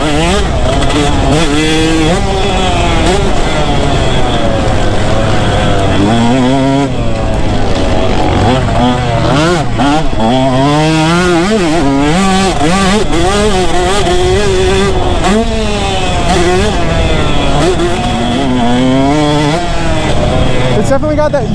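A two-stroke motorcycle rides around a track, its loud, close engine rising and falling in pitch as the rider revs, lugs and shifts, with a continuous buzzing drone throughout.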